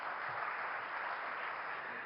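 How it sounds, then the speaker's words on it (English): Steady broadband applause from a large conference audience, a continuous even wash of clapping with no breaks, loud and sustained throughout. "Please give him a warm round of applause."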